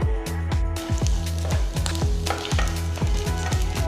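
Chana dal, mustard seeds and cumin fry in a tablespoon of hot oil in a pan, with a continuous sizzle broken by regular, close scraping stirs about twice a second.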